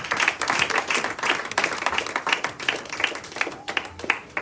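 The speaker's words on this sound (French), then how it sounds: "Est-ce qu'on peut acclamer pour Jésus?" A church congregation claps and cheers for Jesus during a praise gathering, with dense, irregular applause and scattered voices rising and falling continuously.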